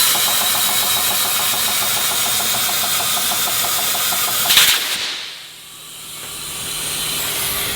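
Compressed air is forced into a trailer tyre to seat its bead on the wheel: a loud, steady hiss of rushing air over a running engine, ending in a sharp burst and then a quick drop.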